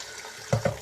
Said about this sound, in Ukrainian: І так мию листочки теплою водичкою із лійки поливаю свої орхідеї